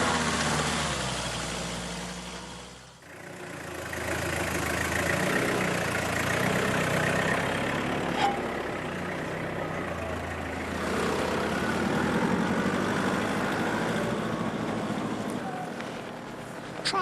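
A steady, low 4x4 engine drone on a steep slope climb runs throughout, dipping briefly early on before settling back into a constant idle-like rumble.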